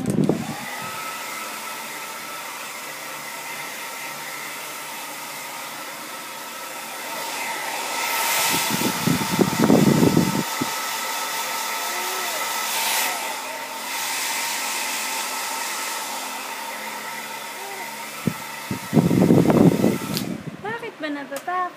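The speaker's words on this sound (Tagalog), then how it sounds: "Takot sa blower ang baby." A hair blower roars steadily for a long stretch, with brief louder bursts of rustling noise near the middle and end; no one speaks.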